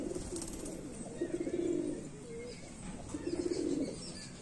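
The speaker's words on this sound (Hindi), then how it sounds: "ये भी बटेरा कबूतर है सबसे पुराना कबूतर है" A Bateri pigeon, an old home-bred line, coos in two soft rolling phrases with a pause between, close by against a faint background hum.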